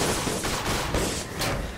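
Airship guns in the game Guns of Icarus fire in a rapid volley, dense bursts of cracking shots that pulse several times, loud and near.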